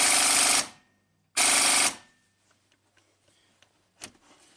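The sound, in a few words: air impact wrench tightening a bolt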